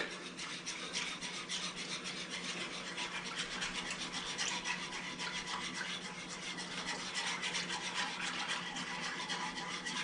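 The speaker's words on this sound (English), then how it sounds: "we're going to add all our milk in there, and we're going to give that a whisk" Milk being whisked into a cheese gravy in a pot, a steady, close scraping and rasping that runs continuously without a break.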